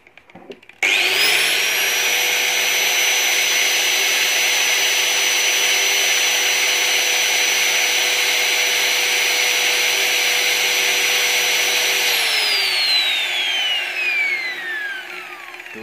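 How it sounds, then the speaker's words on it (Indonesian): An electric angle grinder whines loud and close in a steady, unbroken high-pitched drone after a brief start, then the pitch falls away as it spins down near the end. "Kasih beban gerinda"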